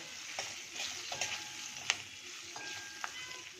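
Chillies frying in a pan over a high flame, a quiet continuous sizzle with a few light stirring clicks and taps.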